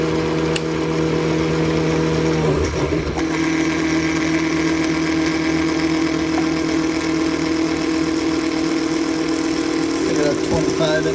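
A CNC mill runs a Big Daishowa high-speed spindle increaser at about 7500 RPM, cutting with a steady loud whine and mechanical hum. A brief disturbance comes partway through, and faint talk is possible beneath the noise.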